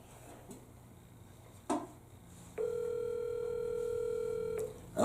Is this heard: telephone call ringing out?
yes